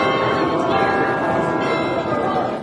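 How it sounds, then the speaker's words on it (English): Merry church bells peal out from steeples, a dense ringing wash of overlapping tones that holds steady and loud throughout, with no pause between strikes. "hear the merry bells peal out from the church steeples"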